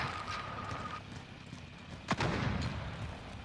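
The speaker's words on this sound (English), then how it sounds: "Flashbang going out." A flashbang grenade going off in a multiplayer shooter game, a single sharp bang that stands out from steady background game noise, with a brief rumbling tail afterward.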